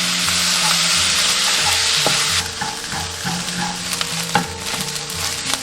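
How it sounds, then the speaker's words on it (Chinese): Mustard greens fried rice, Minnan style, is stir-fried in a wok. A loud, close sizzle drops to a lower hiss partway through, with scraping and tossing strokes of the spatula. "像这样全部炒散过后下入料汁，"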